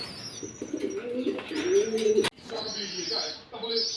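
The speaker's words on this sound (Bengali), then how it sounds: "এই যে আমার এখানে আরও কিছু কবুতর আছে" Rescued Jalali pigeons coo on a rooftop farm, giving soft, throaty rolling calls close by, with a brief knock partway through and faint chirps.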